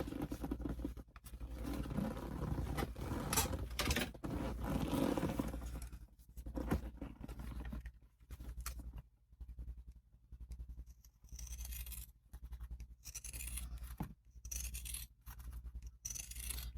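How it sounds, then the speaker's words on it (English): Pinking shears cutting fabric around a curve for a handbag, a series of soft crunching snips that come in irregular bursts, close and fairly quiet, with no talking. "take your pinking shears and go all the way around your curve"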